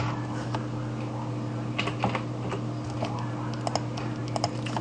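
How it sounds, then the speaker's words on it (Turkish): Close keystrokes on a computer keyboard tap out a password in short irregular bursts over a steady low electrical hum. "Şifremi yazıyorum."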